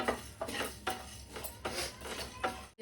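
Whole spices (coriander seeds, cinnamon and cloves) being stirred and dry-roasted in a pan over a low flame, a series of close scraping strokes and light rattles at an uneven rhythm.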